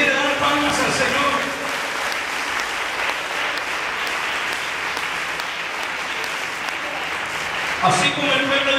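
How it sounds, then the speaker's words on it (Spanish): Church congregation at a thanksgiving service claps steadily for the Lord, a dense, continuous wash of applause with voices mingled in, sustained throughout at fairly loud volume. "si le quiere dar palmas al Señor"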